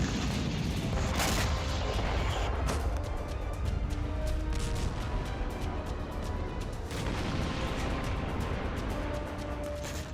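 Continuous loud rumbling blasts and booms from Russian bombing in Ukraine, a dense barrage of explosions with sharp crackling peaks, heard from a distance in news footage.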